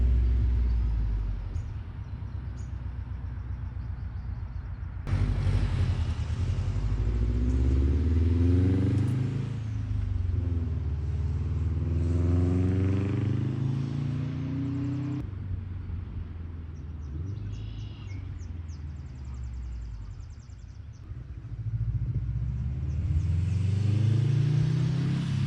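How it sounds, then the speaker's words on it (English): Subaru WRX STI being driven, heard from inside with a deep engine rumble rising and falling through gear changes and repeated accelerations, loud and continuous. "I am gonna take this for a little drive."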